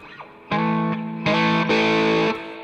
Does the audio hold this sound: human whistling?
no